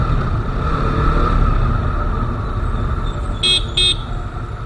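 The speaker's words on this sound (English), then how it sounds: "We'll do little acceleration." A Yamaha R3 parallel-twin motorcycle accelerating in traffic, with a loud steady engine rumble and road noise. Two short car-horn toots sound near the end.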